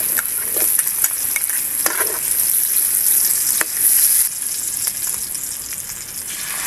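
Garlic frying in oil in a pan for a spicy pork curry, a steady close sizzle with occasional stirring scrapes and a brief louder burst of spatter, no talk.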